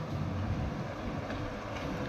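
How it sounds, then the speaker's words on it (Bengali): A small motor trawler passing under a bridge gives a steady low engine rumble with broadband wind-like noise, loud and continuous throughout. "এই যে ট্রলারটা বেরিয়েছে ব্রিজের নিচ দিয়ে।"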